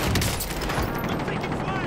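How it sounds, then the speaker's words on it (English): Gunfire in the Warzone battle royale game: a dense, loud fusillade of rapid overlapping shots and cracks, continuous through the clip, with voices mixed underneath. "I'm taking fire!"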